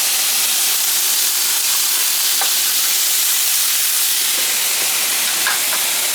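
Hamburger meat and chorizo frying in a pan, a loud, close, continuous sizzle and hiss with a few faint pops, and no talking.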